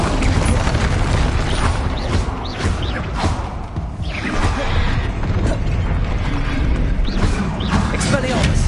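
Bombarda and Confringo explosion spells cast in the Hogwarts Legacy video game: repeated loud booms and crackling bursts with mechanical clanks and whooshes, close and dense across the whole stretch.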